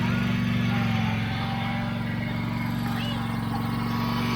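Commercial lawn mower engine running steadily and loudly up close, a continuous low droning hum with no break, a voice talking over it.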